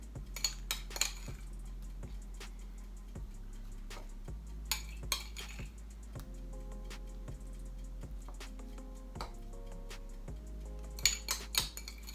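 Utensils clink and scrape against a pan while glaze is spread over the tops of meatloaves, giving a quiet kitchen scene of scattered light taps and clatters over a low steady hum, with no talking.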